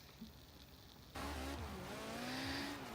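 A Lancia hatchback and a 740-horsepower all-wheel-drive Lamborghini Aventador SV launch in a quarter-mile drag race, engines bursting from near-quiet into a loud, sustained rising roar.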